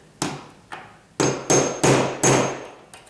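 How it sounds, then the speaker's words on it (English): Hammer tapping a nail set against a popped nail head in sheetrock: six sharp metallic knocks in an uneven rhythm, the first two lighter and spaced apart, then four louder ones closer together and a faint final tap, close and clear with no talk. "you're going to use your nail set to tap that"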